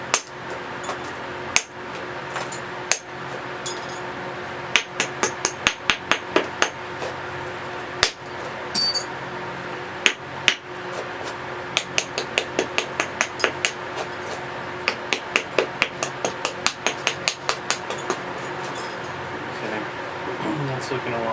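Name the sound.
flint knapping, striking thinning flakes off stone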